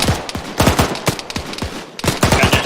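Rapid rifle fire in a military video game, a fast string of close, sharp bursts of shots with a short pause before another volley.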